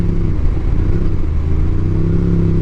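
A loud Royal Enfield Interceptor 650 motorcycle engine idles roughly and revs up close by, a throaty rumble that stays strong throughout.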